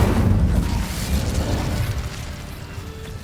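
Fiery Incendio spell blast from Hogwarts Legacy, a loud booming burst that rumbles heavily at first and then trails off into a softer, sustained roar.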